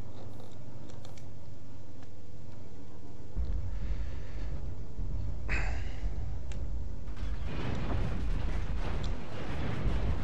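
Missile explosions in the video game MechWarrior Online hit after a low mechanical hum: a deep thump arrives first, then a louder, crackling barrage of blasts rolls on near the end.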